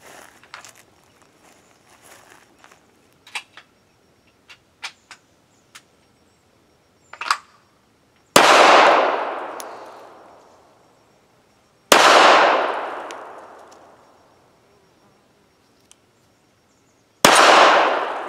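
Three loud gunshots from a Ruger LCP Max pistol fitted with an upgraded trigger ring out several seconds apart, each with a long decaying echo outdoors, after some light handling clicks and clatter.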